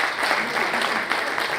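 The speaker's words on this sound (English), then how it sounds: "Please make the applause louder." An audience applauding at a client engagement event, dense, steady clapping from a crowd filling the whole stretch at even loudness, with no voices on top.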